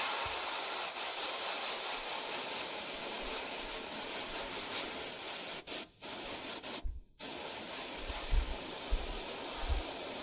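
Airbrush spraying stronger-coloured paint onto the armour plates of a Warmachine Cygnar Avenger warjack miniature, a steady close hiss that runs almost continuously, broken by two short pauses near the end.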